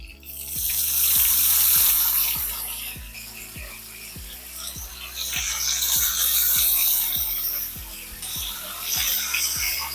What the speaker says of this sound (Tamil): நல்லா தண்ணி ஊற்றி அலசிட்டு எடுத்து இதுல சேர்த்துருங்க